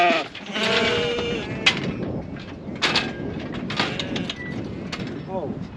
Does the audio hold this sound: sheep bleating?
yes